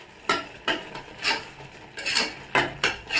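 Tomato rice being stirred in a pan, a spoon scraping and clinking against the metal in about seven short strokes, close and fairly quiet, with no talking.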